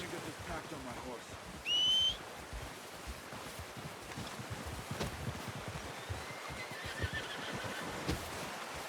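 Horse in the video game Red Dead Redemption 2 gives a brief neigh, fairly loud against wind and outdoor ambience, with soft hoof sounds and a faint second whinny later.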